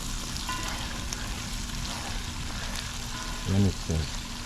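Mango and celery achaar frying in oil in a pan, a steady soft sizzle and crackle throughout, close by, with a couple of brief low knocks near the end.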